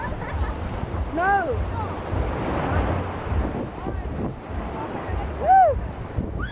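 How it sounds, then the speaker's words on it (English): Ocean waves wash onto a beach at Entebbe, Uganda, with a steady surf roar and wind buffeting the microphone, while excited voices call out now and then. "These waves are amazing."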